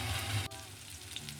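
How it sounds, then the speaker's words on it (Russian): Chicken patties sizzle in a hot pan, a steady close-up crackle and hiss that dips briefly as the patties are set down, then carries on evenly. "На разогретую сковороду мы выкладываем котлетки,"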